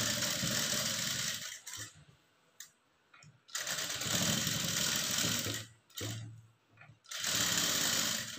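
A sewing machine stitches blouse lining in three loud, close bursts of fast whirring, separated by quiet pauses with small handling clicks.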